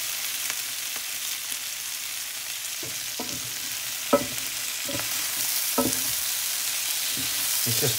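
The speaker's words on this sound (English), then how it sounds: "just to put them in there with the final fry up of the onions" Onions frying in a pan with tomatoes for a Flemish beef carbonnade, a steady hiss of sizzling throughout with a few scattered clinks and scrapes of stirring, no voices.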